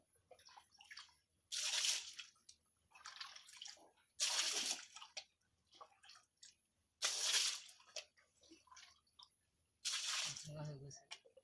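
Water is poured out and refilled in separate loud splashing pours, about four bursts spaced a few seconds apart, with quieter trickles and water handling between them.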